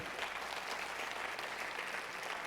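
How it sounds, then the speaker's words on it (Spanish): A church congregation claps together in steady, continuous applause, fairly faint and even throughout, with no voices standing out. "Dele palmas al Señor de la gloria."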